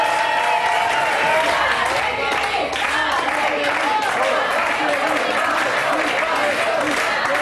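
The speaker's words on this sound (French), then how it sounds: "on les applaudit." A television studio audience claps and cheers, a dense, loud, sustained wall of applause with whoops that holds steady throughout.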